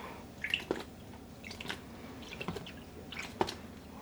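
Soft, wet squishing and light drips as yarn is pressed down into water with citric acid for dyeing, close and quiet, in irregular small bursts.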